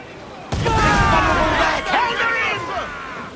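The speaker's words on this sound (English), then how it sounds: "Enemy's firing!" An enemy ship's cannon fire during a naval boarding in a pirate-era video game crackles as a sudden volley, followed by shouting crew voices and battle noise that holds loud for about three seconds.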